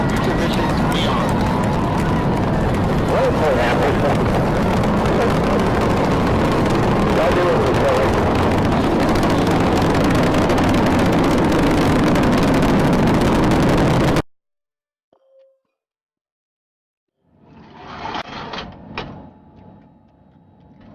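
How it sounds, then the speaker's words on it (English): Space Shuttle Discovery's booster ignition and liftoff make a loud, sustained broadband roar for about fourteen seconds under an announcer's voice, then cut abruptly to near silence before a quieter burst at the end. "booster ignition, and liftoff of the Space Shuttle Discovery"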